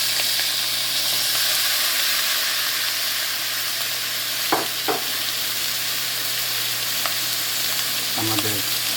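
Tomato, capsicum and shallot fry in a pan with a steady, close sizzling hiss, broken by a few brief stirring scrapes and clicks.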